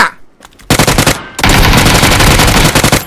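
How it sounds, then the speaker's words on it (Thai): Rapid automatic gunfire in a video game, aimed into a warehouse: a short loud burst, a brief pause, then a long sustained volley of close, sharp shots. "มีคนยิงมาในโกดังอ่ะ"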